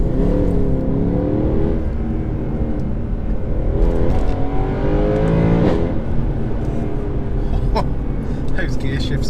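A 2013 Mercedes C63 V8 engine revs hard and loud, climbing and dropping in pitch through several gear changes, with the engine note close and aggressive.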